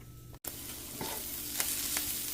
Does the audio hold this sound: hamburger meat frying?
yes